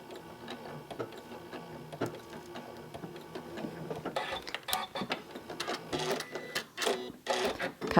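Domestic sewing machine fitted with a beading foot locks its stitches, a steady rapid mechanical whirring and ticking that grows busier and louder toward the end, with no talking.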